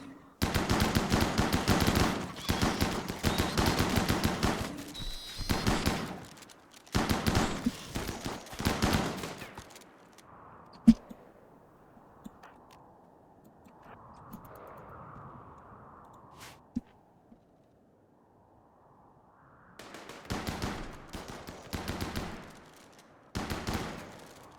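Gunfire in RimWorld comes in bursts of rapid automatic shots, several volleys at the start, a long quiet gap with a few single pops, then more bursts near the end.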